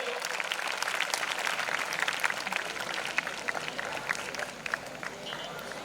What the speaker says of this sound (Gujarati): ચોરાણું પોઈન્ટ પંચ્યાસી ટકા સાથે જોરદાર તાળીઓ